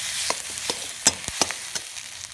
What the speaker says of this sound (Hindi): अब इसमें हमने जो आलू को मैश किया था उसको डाल देंगे और फिर इसको भी साथ में फ्राई करेंगे।